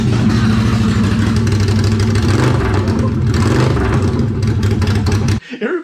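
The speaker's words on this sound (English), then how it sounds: "That thing sounded loud for a V-twin, man." A loud V-twin engine with straight-pipe exhaust on a Can-Am Maverick Sport XMR rumbles and revs with a harsh, throaty, pulsing note close by, then cuts off abruptly near the end.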